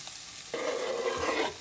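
Crumbled mince goes into a frying pan with browned onions and garlic, bringing a sudden rise in hissing sizzle and a soft scrape that holds steady for about a second before easing.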